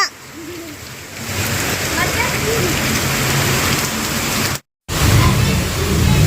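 Driving rain and strong wind in a cloudburst, a loud steady wash of water striking surfaces close by, broken by a brief silent gap near the end before the downpour resumes.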